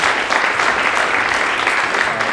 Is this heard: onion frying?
no